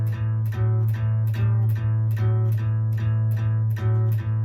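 Acoustic guitar strummed in a steady rhythm over open strings, a low droning bass note under evenly spaced strokes, close and alone.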